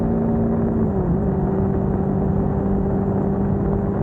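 Steady low engine drone of a Cfmoto 300NK motorcycle cruising through a hometown, with a faint pitch drop early on as the revs ease, then a constant hum with wind rush and no talking.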